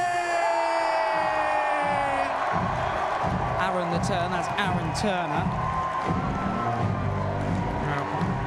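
York University boxing fans cheer and clap as a boxer walks down the stairs at a Roses opening ceremony, a dense crowd roar with whoops under music and an announcer's voice throughout.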